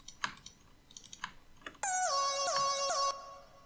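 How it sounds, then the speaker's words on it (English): Vocal synth preset with portamento on plays a short gliding melody in a beat, entering after faint clicking and sustaining with smooth slides between notes for over a second, then cutting off. "This is like just a vocal preset with the slide, like the portamento on, and I just made this little melody."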